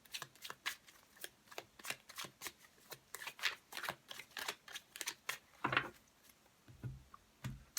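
Tarot cards being shuffled close by, with a steady rhythm of soft flicks and riffles repeating about twice a second and a slightly louder slap near the end, no speech.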